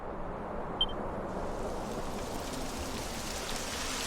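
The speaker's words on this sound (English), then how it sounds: "It would have to go and start raining, wouldn't it?" Steady rain falling in a Dragon Quest 11 game scene, a continuous broadband hiss with no voices over it.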